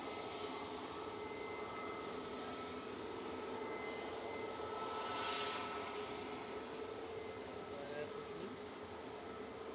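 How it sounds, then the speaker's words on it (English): A Ryanair Boeing 737 MAX 200 jet at Manchester Airport, a steady distant engine roar that swells slightly midway and holds throughout. "Ryanair's Max 200 EI IKK with flight 4776 to Shannon"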